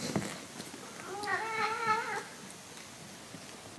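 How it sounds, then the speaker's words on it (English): A Burmese cat gives one drawn-out, wavering meow, near and clear, lasting about a second in a quiet room, with a faint voice briefly at the start. "And he has a very funny meow."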